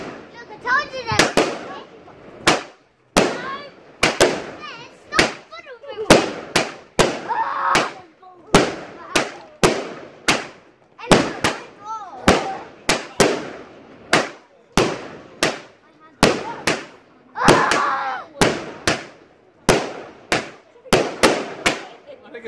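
Bonfire night fireworks go off in a long irregular series of sharp, loud bangs and crackles, some close, some further off, with voices talking between the blasts.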